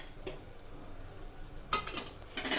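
Chicken masala fry with pepper powder, mint and coriander is stirred in a pan: soft sizzling under scraping and a few clinks of a spoon against metal, close up.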